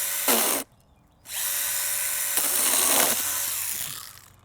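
A STIHL GTA 26 battery saw with a brand-new chain whines into wood, a short burst, a brief pause, then a longer steady buzzing cut that tapers off, loud and close.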